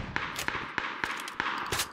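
Rapid string of about six sharp gunshots in the battle royale game PUBG: Battlegrounds, evenly spaced cracks with short tails, fairly loud and close, no voices.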